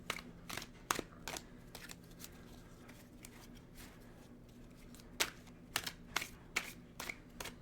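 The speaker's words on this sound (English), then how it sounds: "let's pull some cards, shall we?" Oracle cards are shuffled and pulled by hand at close range, giving soft, quiet riffling flicks and snaps in scattered bursts over a faint steady hum.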